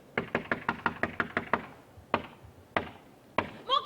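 Knuckles knocking on a door with no doorbell during a stage play: a quick run of about eight evenly spaced raps, then three slower single knocks, fairly close and clear with no talk over them.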